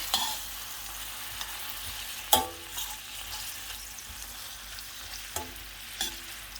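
Spanish tortilla ingredients being mixed in a frying pan, a steady sizzle with a few sharp scrapes and knocks of a utensil against the pan.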